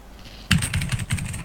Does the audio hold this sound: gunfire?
no